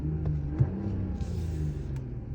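A 2026 Mercedes-Benz GLE 450 4MATIC Coupe in sport mode revs up, its exhaust giving a modest low rumbling tone that rises and holds, fairly close and steady.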